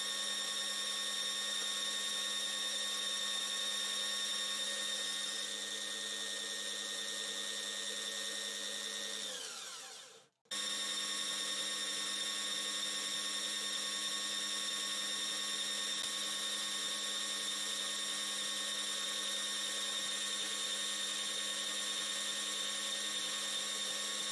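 A tiny tabletop bandsaw cutting aluminum gives a steady, loud whine with strong harmonic tones throughout, briefly winding down and cutting out near the middle before resuming at full speed.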